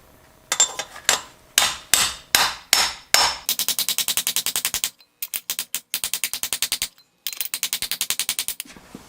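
A hammer drives a seal driver into a C6 transmission case from a 1980 F-350 service truck, sharp metallic blows sounding first singly, then in rapid bursts with brief pauses, loud and close.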